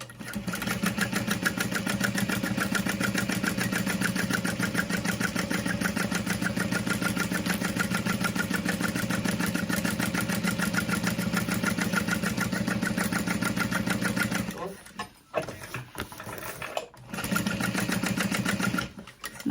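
A sewing machine runs steadily as it stitches a seam on a crossbody bag, starting at the top and walking into the lining. The loud, even hum continues for about fifteen seconds, then breaks into short stops and restarts near the end.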